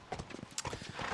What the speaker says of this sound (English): I could ride this horse